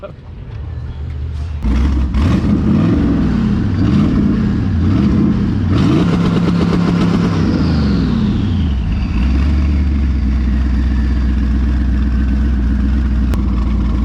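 Race car engine rated at least 800 horsepower revving hard and close, with rising and falling pitch sweeps before settling into a loud, steady rumbling drone.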